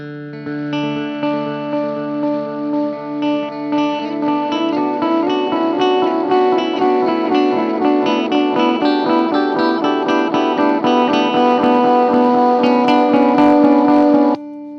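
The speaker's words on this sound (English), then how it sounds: "I've got the Eno 86 Bucket Brigade style delay on super heavy feedback mode" A sustained guitar-like tone runs through an Eno 86 bucket brigade delay pedal with heavy feedback, repeats piling up into a dense, smeared wash that swells before cutting off.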